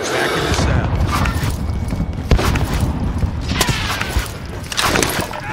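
A grenade blast in a tactical shooter game, set amid dense continuous gunfire and crashing debris, with sharp impacts near the middle and end of the clip and no voices.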